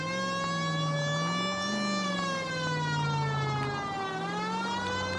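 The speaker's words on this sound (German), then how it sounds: "Die Sirene macht mich nervös" Police siren in the L.A. Noire VR video game wails continuously, its pitch sliding slowly up and down, loud and steady over a low engine hum with no talking.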